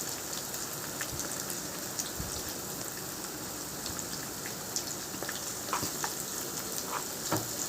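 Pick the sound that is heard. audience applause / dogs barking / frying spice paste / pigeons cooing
frying spice paste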